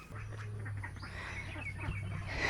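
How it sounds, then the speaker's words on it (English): A duck hollers in short harsh quacks outdoors near ducklings, fairly faint and a little distant over steady background noise, with a faint voice now and then. "I hear a duck hollering."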